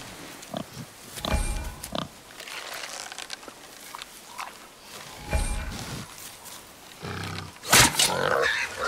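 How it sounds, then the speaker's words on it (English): Wild boar in the God of War video game grunting and snorting in short bursts, with a louder squealing roar near the end, mixed with footsteps and scattered game sounds. "The wild boar's hide is thick."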